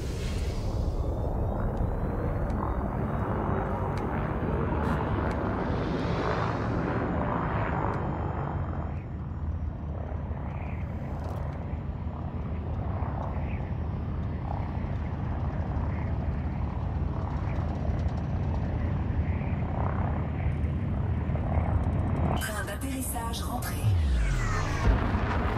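Spaceship lifting off in Elite Dangerous, a steady loud engine roar with low rumble that holds for the whole stretch, a sharp burst near the end, while someone talks over it.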